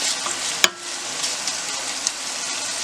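Chicken thighs sizzle loudly in a casserole with softened onions, a steady dense frying hiss throughout with one sharp clack early on as a piece goes into the pan, and no talking.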